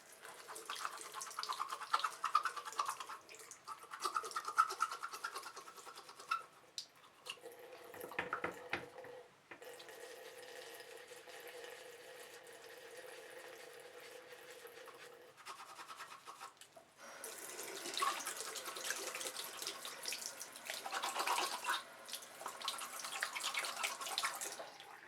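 A Zoeva makeup brush is rinsed under a running tap, with steady hissing water flow in long stretches, a short pause midway, then more splashing rinsing, all quiet and close.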